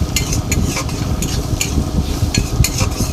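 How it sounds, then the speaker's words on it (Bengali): Ground spices fry in a pan while a spoon stirs them, producing loud, close scraping and clinking strokes in an uneven rhythm over a low sizzle. No voices are present. "একটু ভালো করে ভেজে কষিয়ে নিচ্ছি।"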